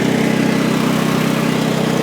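A lawn mower engine runs steadily near the listener, a loud, even motor drone with no talk over it.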